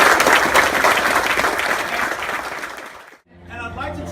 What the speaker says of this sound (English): So I'd like to give you all a big round of applause and a thank you.